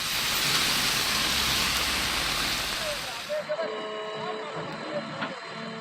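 Heavy rain in Vandavasi pours down as a dense, loud, steady hiss for about three seconds, then eases to a lighter patter with scattered drips, with no talking.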